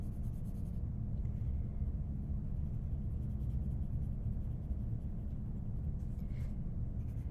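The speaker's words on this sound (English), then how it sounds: "now watch me just gradually lift up my pencil so it really starts to blend in" Pencil shading on paper while drawing a realistic eye, a faint steady scratchy rasp of graphite strokes continuing throughout under a low background hum, with no talking.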